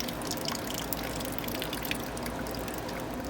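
Water steadily drains from the hot side of a Suburban water heater on an Itasca Solei 38R RV, a continuous even splashing and trickling that runs unbroken throughout, fairly close.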